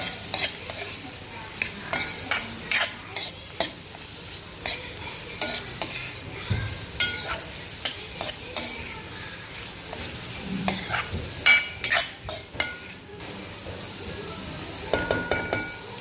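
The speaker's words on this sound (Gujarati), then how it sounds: "હવે આપણે આ લસણ મરચાંની જે પેસ્ટ કરી હતી એ એડ કરીશું અંદર અને એને પણ થોડું હલાવી દઈશું, મિક્સ કરી દઈશું." Garlic and chili paste being stirred into vegetable pulao in a pan, a series of sharp spoon scrapes and clinks against the metal over a soft background sizzle, close and uneven in rhythm, with no talking.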